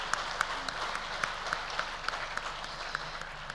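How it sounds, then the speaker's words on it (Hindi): Audience applause at a three-day legal services conference on cyber safety, heard as a steady wash of hand claps with a few sharper individual claps standing out, fairly distant and continuous throughout. "देखिए तालियों का थोड़ा सा आवाज़ ज़ोर से रहे तो अच्छा लगेगा."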